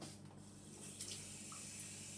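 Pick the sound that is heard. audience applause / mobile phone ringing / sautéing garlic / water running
water running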